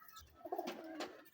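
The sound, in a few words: pigeons cooing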